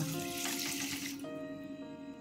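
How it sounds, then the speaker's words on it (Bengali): About three-quarters of a cup of water is poured onto one and a half cups of sugar in a pan to make syrup for balushahi sweets, a steady close splashing stream that ends after about a second, leaving a quiet tonal hum. "পৌনে 1 কাপ জল দিলাম"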